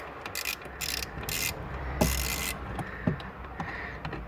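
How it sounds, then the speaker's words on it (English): A small hand ratchet works bolts on a Peugeot 307 CC engine bay, giving several short bursts of rapid clicking separated by pauses, close and fairly quiet, with a few light metallic knocks between. "Okay, I'm gonna use my little ratchet."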